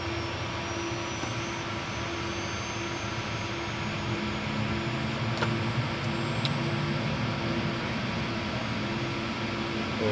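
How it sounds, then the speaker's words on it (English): A CJ3+ business jet's number one engine spooling up at ignition during start, a steady loud turbine roar with a rising whine, continuous for the whole stretch. "There's ignition. IGTs are moving, N1 is moving."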